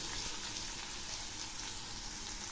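Onion and garlic being stirred in hot oil in a wok make a quiet, soft sizzle that runs without a break and sits low in level.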